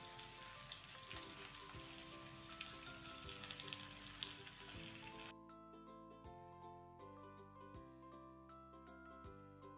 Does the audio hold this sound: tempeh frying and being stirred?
yes